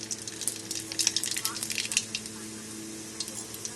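Bay leaf and black cumin sizzling in hot oil while cooking koi fish, a close, steady crackle with bright popping spatters, no voices.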